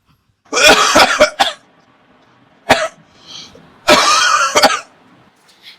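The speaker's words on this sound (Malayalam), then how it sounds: "ഇങ്ങനെ ഇരുന്ന് ചുമക്കാതെ കഴിഞ്ഞ ദിവസം മേടിച്ച മരുന്ന് ഒന്ന് കുടിക്കുന്നേ" A man coughs in harsh, close bursts: a cluster of rapid coughs, then a single cough, then another tight group, with short quiet gaps and some throat clearing.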